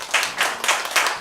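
Theatresports improv audience clapping in a theater, a brief burst of applause with rhythmic bursts of hand claps, fairly close and full, no talk over it.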